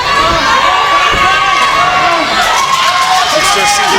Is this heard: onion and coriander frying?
no